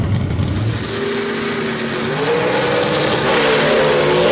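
Gasser drag race cars at Knoxville Dragway roar at full throttle, a loud continuous engine howl with rising pitch as they accelerate away down the strip, no voices over it.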